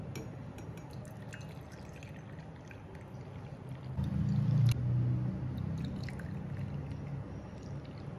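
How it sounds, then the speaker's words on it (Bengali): Tea pours into a cup as a steady liquid trickle, close by, swelling louder and fuller midway before settling back to a softer stream, with no talking. "কাপ নিয়ে নিয়েছি, চাটাও ঢেলে নিই।"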